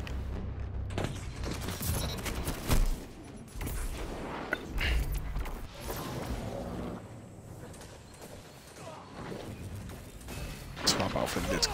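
Rapid gunfire in Destiny 2 during the Solstice of Heroes event, in sharp bursts and booms over busy game noise, with a player talking throughout.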